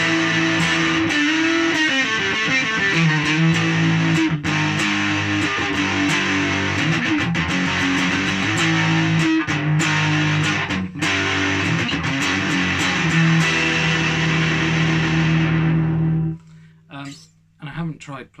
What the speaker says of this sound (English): if you want some high gain, kind of bit different from your average sounding distortion box